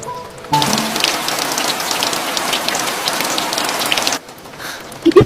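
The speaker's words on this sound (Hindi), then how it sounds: "कितनी सुंदर बारिश है।" Steady rain pours down in a miniature village cooking scene, a dense continuous hiss of drops on surfaces that starts abruptly after a brief quiet moment and cuts off near the end, with no talk.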